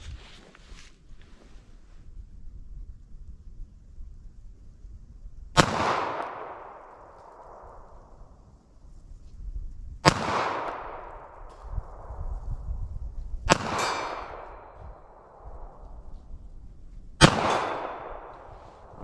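Four loud .32 ACP+P pistol shots fired at a target outdoors, evenly spaced several seconds apart, each a sharp close crack with a short decaying echo over faint wind noise.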